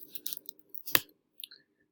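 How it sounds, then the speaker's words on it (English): Password keys tapped on a computer keyboard: a handful of sparse, light clicks spread irregularly, with one sharper, louder clack in the middle and brief quiet gaps, close by and fairly faint. "let's going to type my password"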